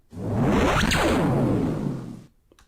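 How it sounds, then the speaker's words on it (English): A ray gun sound effect blasts for about two seconds with a bright, swooping electronic sweep that crosses up and down at once, then cuts off abruptly, leaving a faint tail. "I have this little ray gun effect that I got for free from somewhere"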